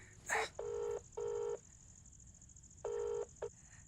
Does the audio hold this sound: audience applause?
no